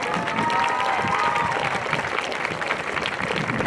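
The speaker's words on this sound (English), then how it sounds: "a nice round of applause" A crowd in the stands at a high school football game, Southeast of Saline vs Halstead, gives sustained applause for senior cheerleaders and dancers, with continuous clapping and light cheering filling the whole stretch.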